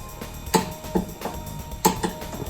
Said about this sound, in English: You can hear that torque wrench click.